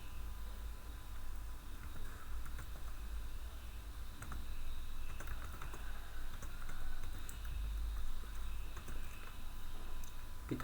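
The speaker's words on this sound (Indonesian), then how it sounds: "Kita bisa ketikkan di terminal sudo apt update untuk mengupdate Linux" Typing on a computer keyboard while entering commands into a Linux terminal, steady soft key clicks running throughout against a faint background hiss, with no talk.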